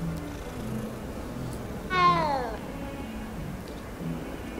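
A single drawn-out cat meow from a feline in Hogwarts Legacy, clear and close, rising then falling, set against low background game sound with a voice talking around it.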